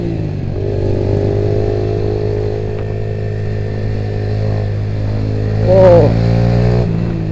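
A Honda Nova Sonic 125 motorcycle rides along with a loud, steady engine drone that rises slightly toward the end as it weaves through traffic, while a rider speaks briefly over it.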